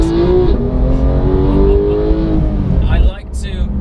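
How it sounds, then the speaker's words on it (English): A Porsche 991 GT3's flat-six engine revs loud and close, a rich harmonic tone climbing and holding before cutting off abruptly near the end, followed by a quieter tail; a person speaks briefly over it. "Let's hear that flat six."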